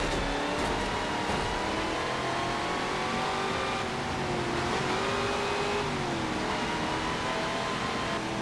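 An old beat-up junk car engine in Forza Motorsport 7 drones steadily throughout, a sustained rough tone with slowly shifting pitch that rises and dips slightly, close and continuous, with no voices.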